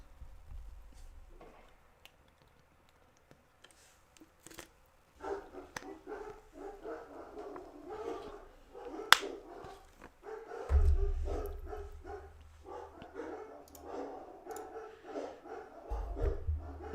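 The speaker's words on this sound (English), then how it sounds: "My bad if you guys hear dogs." Dogs bark repeatedly somewhere outside, fairly faint and distant, in scattered bursts over steady background noise, with occasional louder knocks and thumps nearer by.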